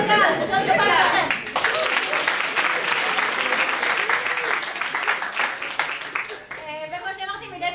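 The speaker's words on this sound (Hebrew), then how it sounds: "נחל כפיים לכם" Audience applause at a university improv comedy show, a dense burst of clapping that fades over several seconds before a voice resumes speaking.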